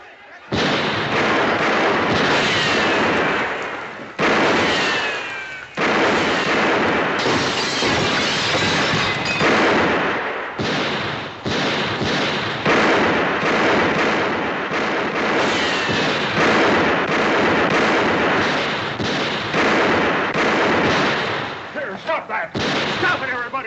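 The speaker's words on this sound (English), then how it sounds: "Let's put a few shots over their heads." Gunshots fired over the heads of approaching riders in a 1950s-60s Western television drama, a long volley of sharp, loud cracks in rapid irregular bursts, with brief pauses between flurries.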